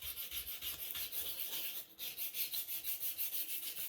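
Bentwood ring blank sanded by hand with 240 grit sandpaper, a close, quiet rhythmic scratching of quick back-and-forth strokes, about five per second, with no voices.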